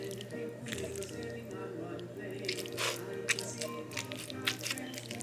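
Moist, creamy homemade mac and cheese is stirred close up, making wet squishing and dripping sounds throughout, quiet and continuous.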